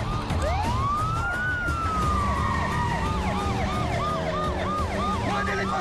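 Police car siren wailing loudly and continuously, first a long rising and falling sweep and then a fast repeating yelp pattern, close and dominant.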